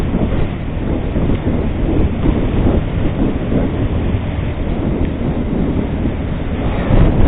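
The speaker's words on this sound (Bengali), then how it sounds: "হাওয়া ঝাপটা মারছে বাইকের মধ্যে।" Strong, gusty wind buffeting a moving motorbike, a loud, continuous roaring rush of air on the microphone that swells near the end, with no voices.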